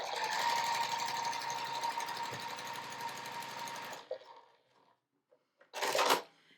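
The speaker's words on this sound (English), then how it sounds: "I'm gonna lay it right sides together and sew a 1/4 inch seam across here" A sewing machine stitches a quarter-inch seam across quilt block pieces laid right sides together, running in a fast, even mechanical rattle for about four seconds before stopping, followed by a few small clicks and a brief rustle.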